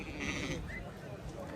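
Sheep bleat amid the busy murmur of a livestock market, a single higher call rising briefly over steady crowd noise and nearby talk.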